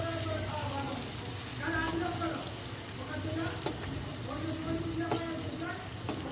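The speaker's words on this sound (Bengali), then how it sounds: "অল্প অল্প করে দিয়ে ভেজে নেব আমি।" Dhoka lentil cakes fry in oil with a steady, fairly faint sizzle and hiss, broken by occasional clinks, while a voice talks intermittently over it.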